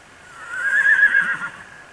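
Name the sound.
horse neighing at a corral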